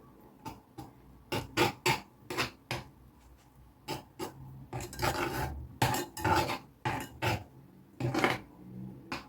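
Blue food colouring mixed into stiff-peaked icing for a Ukrainian Easter paska, a spoon scraping and clinking against the bowl in quick irregular bursts, close and fairly loud, with no talking.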